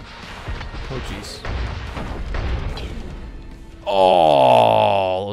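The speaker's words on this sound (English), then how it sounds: "those explosions killed me" Explosions in the video game Bite the Bullet, a series of deep booms and crashes rumbling together, followed by a loud sustained tonal blast at the end.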